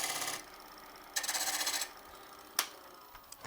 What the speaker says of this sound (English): coming in from the side, small cut, not forgetting to tuck the gouge in at the end of the cut to form an undercut shoulder